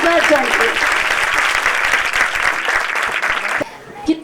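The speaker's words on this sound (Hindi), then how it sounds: "जोरदार ताली बजा के फिर बैठ जाएंगे" A church congregation claps loudly and steadily, the dense applause filling most of the stretch before cutting off abruptly, followed by a brief quieter moment with faint voices.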